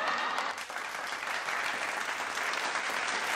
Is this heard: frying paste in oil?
no